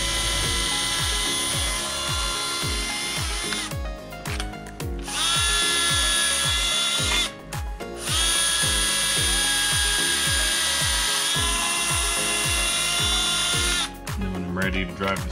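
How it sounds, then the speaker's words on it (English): A power drill whirs in long bursts with short pauses between, pre-drilling screw holes in fence wood, its motor pitch shifting under load, loud and close. "I'm gonna pre-drill so that they don't split"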